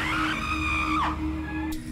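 A woman is jolted by a shadowy male figure while washing her face in the bathroom and lets out a loud, sharp scream of fright. It climbs high, breaks off, and is followed by a short shriek at the end.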